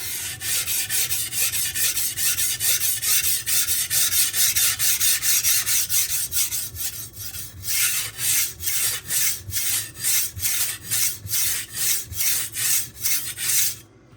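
A knife blade scrapes across a Suehiro Debado 600 and 1500 grit whetstone, first in fast continuous rubbing, then in distinct rhythmic back-and-forth strokes, close and loud.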